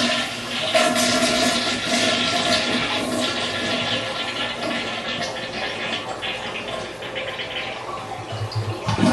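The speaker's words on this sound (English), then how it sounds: "now you gotta flush the toilet and drain all the water out of the tank" A household toilet flushes to drain its tank during a wax-ring replacement, a loud rushing gurgle of water that swells early, then settles into a steady draining swirl with a renewed surge near the end.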